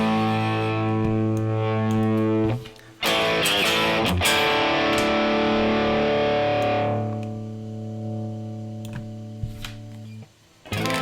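An electric guitar plays through a NUX MG-300 modeling processor with drive turned up, ringing sustained overdriven chords and notes with a strummed burst in the middle, loud and close, with brief gaps.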